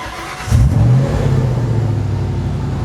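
The swapped 4.6L 4V engine in a Ford Mustang GT revs up sharply and then settles into a steady, loud idle rumble heard up close.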